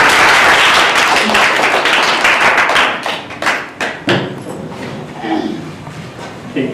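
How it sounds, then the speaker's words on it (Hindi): An indoor audience at a school English quiz claps loudly to welcome young children, a dense burst of applause that thins into scattered, separate claps before fading out. "पहली के बच्चे हैं, हम उनका तालियों से स्वागत करते हैं।"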